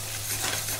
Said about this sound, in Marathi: तर आता हा ठेचा परतून झालेला आहे